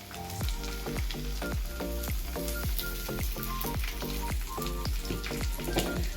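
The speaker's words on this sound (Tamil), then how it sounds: "இப்போ நெக்ஸ்ட்டு வந்து பூண்டு போட போகிறோம்" Garlic, chilli and mustard seeds frying in hot oil for mango pickle, a busy crackling sizzle with sharp rhythmic pops and spatters close by, steady throughout with no voices.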